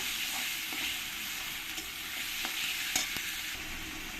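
A spoon stirs cumin-coriander paste and ginger-garlic paste in a sizzling frying pan for a Bengali-style prawn curry, with steady frying crackle and occasional scraping strokes, close and continuous.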